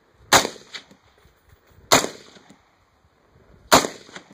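Three sharp, loud gunshots from a Bushmaster C15 rifle ring out about 1.7 seconds apart, each one a crisp crack followed by a brief echoing tail. No talk is heard between them.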